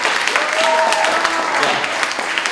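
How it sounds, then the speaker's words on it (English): Students in a talk session give a short burst of applause in praise of sleep, a steady wash of clapping lasting a couple of seconds with some crowd noise mixed in. "You can applause for sleep."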